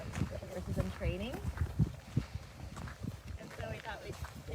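Horses being worked in an indoor arena on a farm, hoof clops and movement under a person talking in the foreground, with some faint background sounds.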